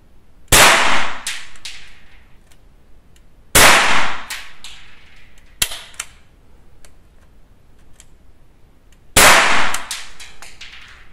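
Four loud, sharp shots from a MAB Harmonica carbine fired at a stack of four layers of trousers, each crack decaying quickly, with a long pause before the last; no talking.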